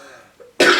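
A person lets out a single sudden, harsh cough, loud and close, after a moment of quiet.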